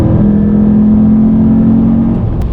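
A Lexus engine, tuned with an Apexi NEO AFC, held steadily at about 4,000 RPM, producing a loud, close, constant drone with a steady whine riding over it and no voices.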